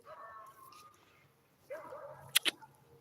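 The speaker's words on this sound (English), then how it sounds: "That's a big ass dog." A large short-haired dog outdoors at night gives faint whimpering yips, then two sharp, loud barks in quick succession near the end, heard on a dark walk.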